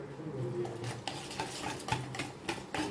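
A spoon stirs ginger garlic paste in a pan, several soft scrapes and light clinks against the metal over a faint sizzle, quiet and close, with no one talking.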